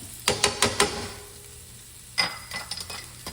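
Chopped shallots with a little olive oil in a pan, heard as a few quick clattering stirs, a quiet pause, then another run of scraping stirs with faint sizzling underneath.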